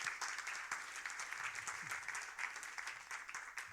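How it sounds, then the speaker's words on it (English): Conference audience applauding a departing conference director, a steady dense wash of many hands clapping throughout, fairly distant and even. "I just want you to stand up so I can applaud you"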